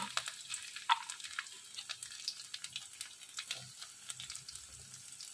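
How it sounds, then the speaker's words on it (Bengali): Black cumin, whole cumin, chopped garlic and chili sizzle in hot oil in a Bengali home kitchen, a steady crackling fry with small pops, fairly quiet and close, with no voices. "এবার তেলটা গরম হয়ে গেলে আমি প্রথমে এতে কালো জিরে, তারপরে গোটা জিরে দিয়ে দেব। তারপর এতে রসুন কুচি আর লঙ্কা কুচিটা দিয়ে দেব।"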